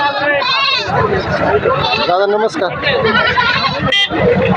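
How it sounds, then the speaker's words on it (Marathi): Goats bleat among the crowd at a busy livestock market in Shirur taluka, Pune district, with several nearby calls rising over steady babble while someone speaks a greeting. "इकडे ते खेळाडी शेळ्या विक्रीसाठी आहेत"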